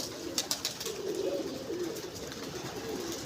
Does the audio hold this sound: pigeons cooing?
yes